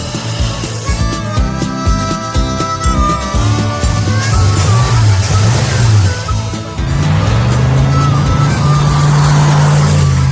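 A Mercury Cougar's engine runs loud and close while driving, a steady rumbling drone with shifting pitch as it pulls, and a brief dip before the engine note picks back up.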